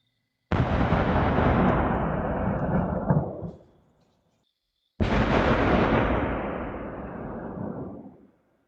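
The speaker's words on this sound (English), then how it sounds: "the mysterious booms that were heard over in New Jersey, this is an example of what was heard" Two loud, deep booms over New Jersey, each a sudden blast with a long rumbling decay lasting a few seconds, separated by a short silence.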